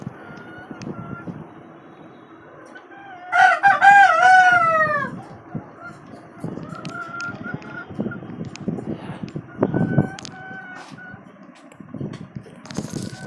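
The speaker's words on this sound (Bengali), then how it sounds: "এই হচ্ছে আমার আরেকটা খাঁচা এখানে আরো কিছু মুরগি আছে" A rooster crows loudly once, nearby, while native hens cluck and murmur softly on and off in the background at a rooftop poultry farm on a five-storey building.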